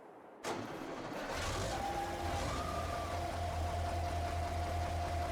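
A New Holland tractor engine in Farming Simulator 22 cranks and starts after a short quiet moment, then settles into a steady, fairly loud idle with a low throbbing hum.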